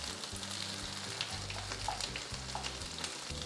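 Whole cardamom pods, one large and two small, sizzle steadily in hot ghee in a pan, a close, continuous crackling fry with no voices.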